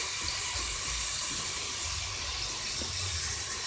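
Warm-to-cold tap water runs steadily into a sink while rinsing a disc, a constant close hiss of flowing water with no break.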